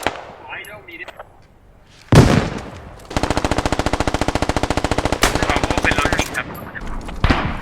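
Automatic rifle fire in the Squad military shooter game, a loud sustained burst of rapid evenly spaced shots after a single heavy blast, with further shots and a brief muffled voice near the start.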